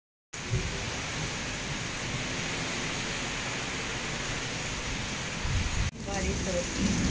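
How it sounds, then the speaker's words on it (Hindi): Steady heavy rain hisses evenly throughout, a dense wash of noise that swells slightly toward the end after a brief dropout. "बारिश हो रही है।"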